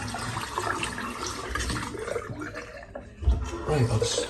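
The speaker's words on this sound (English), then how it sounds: "let's rinse this brush out" Running water from a tap rinses a lathered natural-hair shaving brush, a steady close splashing flow that swells louder toward the end.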